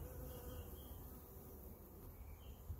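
Dense, steady buzzing of honey bees inside a hive with young bees hatching, a continuous low drone that stays even and close throughout with no voices.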